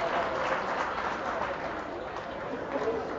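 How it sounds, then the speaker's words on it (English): Crowd applause fills a high school boys' basketball gym late in the second half, with Braintree playing Wellesley. It is a steady, fairly loud wash of clapping, with some crowd noise mixed in. "a well-deserved round of applause for this Braintree team"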